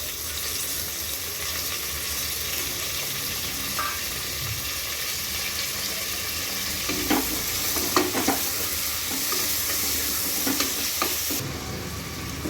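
Tomatoes and green chillies with ginger-garlic paste fry in a pan, a steady close sizzle with occasional stirring scrapes and clinks against the pan, no talking.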